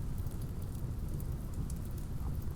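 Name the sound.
rain falling in RimWorld video game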